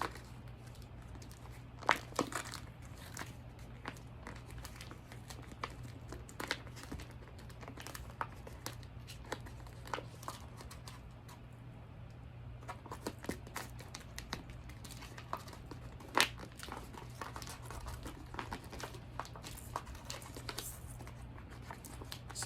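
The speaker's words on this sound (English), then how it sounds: "keep removing the transfer tape" Transfer tape peeled from vinyl backing paper, a series of quiet crackling rips and crinkles at irregular intervals, close up with no talk.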